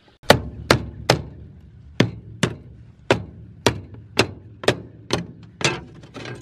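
A series of about a dozen sharp hammer blows at an uneven pace, each a loud crack with a short ringing tail, close by with no talking.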